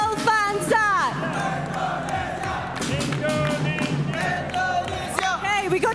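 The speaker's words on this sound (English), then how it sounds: "we got cheering for Indonesia here too" Fans at the FIFAe World Cup esports final cheer and yell loudly in a big crowd, with whoops and chanting voices rising and falling throughout, close and energetic.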